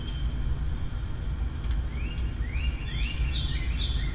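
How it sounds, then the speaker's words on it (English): Forest soundscape from the nature-sound feature of a 2021 Genesis GV80 over its Lexicon 21-speaker system: several chirping bird calls and rising whistles over a low steady rumble, moderately loud. "lively forest,"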